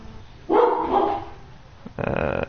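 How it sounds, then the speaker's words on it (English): A dog barking nearby, one strong drawn-out bark followed by a shorter rough bark after a pause, both fairly loud and with no talk over them. "dog bark."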